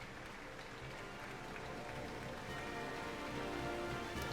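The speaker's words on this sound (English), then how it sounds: "apparently I'm applauding by the sound in the background" A Final Fantasy XIV applause emote rings out as steady clapping, filling the background evenly and moderately loud with no pauses, and no voices are heard over it.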